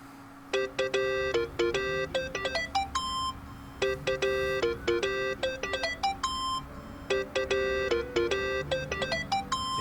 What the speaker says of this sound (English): Think that's your phone.